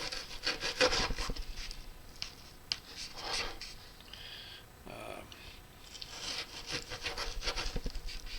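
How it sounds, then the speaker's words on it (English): Bait is sliced into strips with a knife, producing quiet, close scraping and rubbing strokes in short irregular bursts with pauses between cuts. "So I'm gonna cut this into strips."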